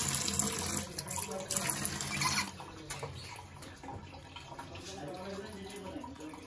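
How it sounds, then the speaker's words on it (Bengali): Tap water runs over fish being washed at a sink, a splashing gush that is strongest early, then settles into a softer steady flow with drips and handling noises. "এই তো আমি মাছটাকে ওয়াশ করে নিচ্ছি"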